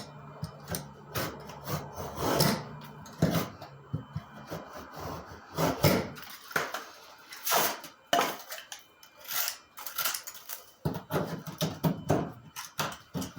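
A scrap piece of drywall being cut by hand during a repair of water-damaged wall from a washing machine drain box leak, irregular close scraping and rasping strokes with scattered knocks and handling clatter, no talking.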